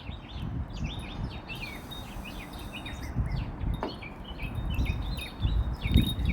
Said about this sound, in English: I hope the birds and the wind chimes aren't too distracting for you guys